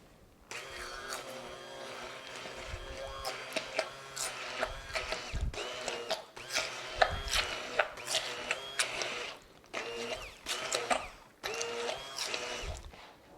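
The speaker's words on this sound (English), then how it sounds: "So because it is getting thick, I am gonna use my mixer." An electric hand mixer whirs in bursts through thickening vanilla coconut cold process soap batter, starting and stopping repeatedly with a rattling mechanical buzz, close and fairly quiet, with no talk.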